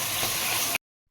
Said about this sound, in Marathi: गरम मसाला टाकूया, हळद टाकूया थोडीशी आणि चांगला आपण फ्राय करून घेऊया मसाल्याला